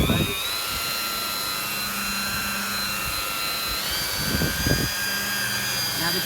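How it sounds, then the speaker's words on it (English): Buffing machine spinning a pad at speed while polishing a boat hull, a steady high whine with an even drone underneath and a few bumps as the pad is worked, continuous and close. "When we speed the buff up in certain stages, you're going to start to get a shine."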